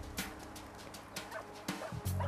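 Several dogs being walked yip and bark in short bursts, close by, amid a busy outdoor background.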